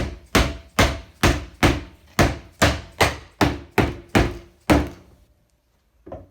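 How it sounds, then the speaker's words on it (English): A dead blow hammer beats around the edges of a bucket lid: about ten dull, heavy thuds in a steady rhythm, close and loud, then a brief pause and one last softer knock. "Just take a dead blow, beat around the edges"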